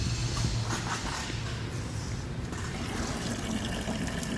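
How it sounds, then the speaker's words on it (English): A pump runs in a Little Guy Mini Max camper, pushing antifreeze back through the city water connection, giving a steady close gurgle and rushing flow of liquid with a faint hum underneath. "when I turn on the pump, that's going to allow antifreeze to backfeed through the city water connection"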